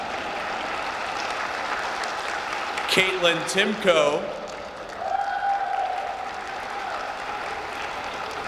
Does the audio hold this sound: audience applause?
yes